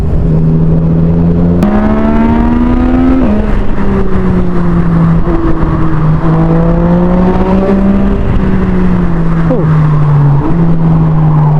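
A Yamaha MT-09 motorcycle engine hums and rises in pitch through several gear changes, steady and loud throughout, with wind noise while riding.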